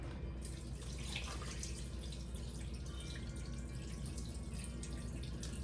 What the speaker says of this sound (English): I'm just going to pour some of it off because that will save me some cooking time